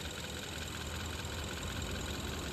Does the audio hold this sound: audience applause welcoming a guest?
no